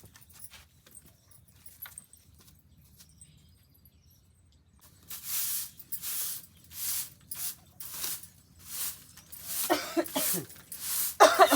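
A series of harsh, raspy coughs, close and fairly loud, comes in irregular bursts after a quiet stretch, growing rougher toward the end.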